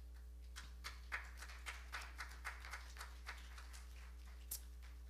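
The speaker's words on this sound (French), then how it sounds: "clap for Jesus" A church congregation claps in a steady rhythm, faint and somewhat distant, with evenly spaced claps over a low electrical hum.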